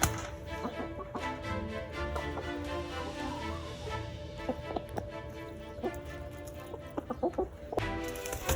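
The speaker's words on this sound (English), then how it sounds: "She is the most skittish chicken that I've ever seen." A skittish hen clucks in short bursts and squawks, close and moderately loud, over a steady backdrop of farmyard noise.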